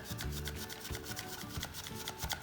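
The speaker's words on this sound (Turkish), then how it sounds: "Güzelce tüm unumu eliyorum." Flour is sifted through a sieve for a lemon cake, a soft, steady rasping shake with a faint rhythmic tapping of the sieve, close and continuous.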